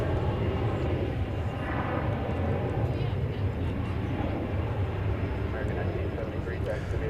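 A Boeing 737-800 from Calgary arrives at DFW Airport, its engines a continuous low roar at a distance, with a voice talking over it throughout.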